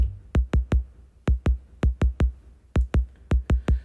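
Bass drum hits from a Roland CR-78 drum machine playing a programmed pattern, heard alone: short punchy thumps in groups of two and three with gaps between, even and steady across the bar.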